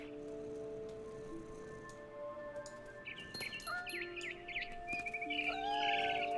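A mother bird chirps in the video game What Remains of Edith Finch, faint scattered tweets and whistled calls over a quiet ambient background that grow a little livelier toward the end.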